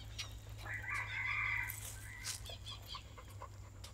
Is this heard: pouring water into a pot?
no